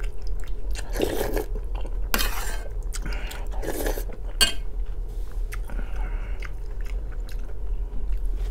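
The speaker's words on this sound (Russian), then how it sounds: "Ложкой шкрябаю, ну а что поделать?" A metal spoon scrapes and clinks against a bowl of borscht in short bursts, close up, with quiet chewing sounds between scrapes and no talking.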